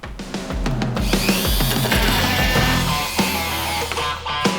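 A Dearmel rotary engraver drilling chipboard with a 3 mm bit, a loud, close high-pitched whine that rises as the tool starts and rattles and grinds against the wood with bursts of bite, alone without talk.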